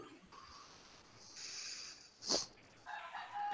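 A rooster crows faintly in the distance, one drawn-out call with a sharp peak, behind a low steady room hiss.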